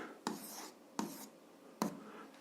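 Handwriting an algebra equation, heard as three close scratchy strokes of pen or chalk, each starting with a sharp tap and trailing off, at a steady pace with quiet room noise between.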